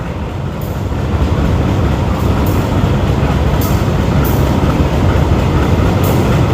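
A passenger train rumbles loudly and steadily close by, a dense roar of wheels and carriages with faint periodic clicks overhead.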